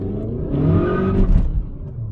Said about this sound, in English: you can still peel some tires